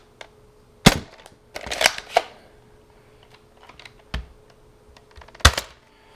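Nerf Strong Arm revolver blaster firing in a sequence of sharp, separated clicking pops with quiet gaps between them, close and fairly loud against a near-silent background.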